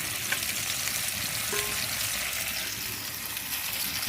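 Lightly fried fish pieces cooking in a pan, a continuous close bubbling and sizzling hiss that stays even throughout, with one faint clink partway through and no voices.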